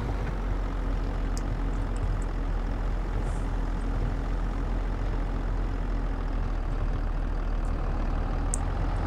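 A tractor engine running steadily in Farming Simulator 22, a constant low rumbling drone held at moderate revs, loud and close with no talking.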